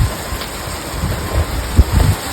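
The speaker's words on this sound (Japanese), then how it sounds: "まだ台風は来てないのにすごい雨。" Heavy rain pours steadily ahead of an approaching typhoon, a loud, dense hiss of drops close by with occasional low thuds of water hitting surfaces.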